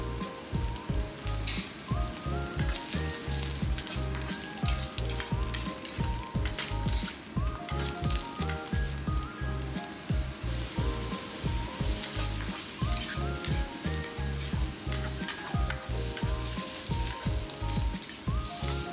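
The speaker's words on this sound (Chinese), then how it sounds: "下雪菜翻炒1分钟，加蚕豆再翻炒1分钟，加生抽、盐翻炒30秒" Pickled greens, bamboo shoots and broad beans stir-fried in lard in a hot wok, with a steady loud sizzle under continual rhythmic scraping and clanking of the spatula throughout, no voices.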